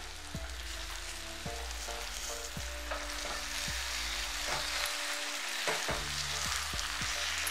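Chopped hadga (agathi) flowers being stirred into frying masala over a low gas flame, a steady close sizzle with repeated scraping strokes of the spoon through the pan, no voices.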